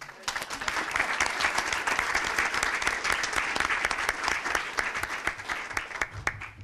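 Audience members at a city council regular meeting give a warm round of applause, thick and even throughout and close by, without any break or talk over it.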